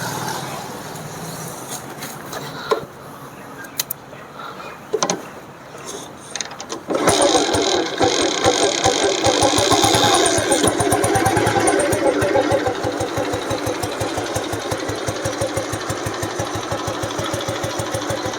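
A red 1996 Royal Enfield Bullet Deluxe is started after a few kicks and clatters, then settles into its deep, evenly thumping single-cylinder idle, close and loud, with a voice speaking over the opening seconds.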